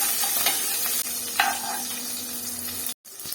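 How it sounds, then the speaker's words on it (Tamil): Small onions sizzle and hiss steadily in hot oil in a pan, with occasional stirring scrapes, close and moderately loud, cutting out briefly near the end. "இப்போ சின்ன வெங்காயம் ஒரு பதினஞ்சு டம்பர் நல்லா வதக்கிடுவேன்"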